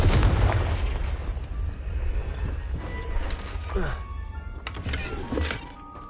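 Confringo fire spell blasts in the Hogwarts Legacy game on PS5: loud booming explosions with crackling bursts throughout, a heavy low rumble under them, fading slightly toward the end.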